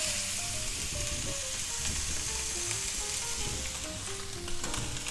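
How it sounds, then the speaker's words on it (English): A thick London broil steak sizzles loudly in a hot pan for searing, a steady dense crackle and hiss throughout with faint kitchen hum beneath, no voices. "Now it's going to sizzle."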